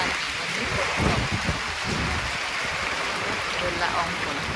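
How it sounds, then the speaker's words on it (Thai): Rain falls steadily at Khao Khitchakut mountain, a dense close hiss of drops with a few heavier splashes near the start and no speech. "พอฝนตกก็ถ่ายฝนตกให้ดู"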